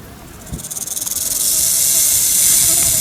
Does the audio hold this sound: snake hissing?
yes